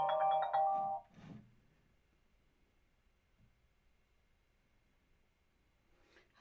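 A telephone rings for an incoming call with a short electronic ringtone burst at the start, then near silence apart from a faint hum and a brief sound at the end.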